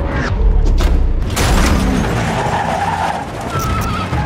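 A car speeds off with screeching, skidding tires in a movie scene, a loud close roar of engine and tire squeal mixed with booming impacts and mechanical clatter.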